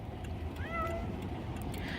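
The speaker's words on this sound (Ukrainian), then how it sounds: "Кіт наш періодично м'явкає." A cat meows once, a short rising-falling cry set faintly against the steady low rumble of a moving car's cabin on a road trip.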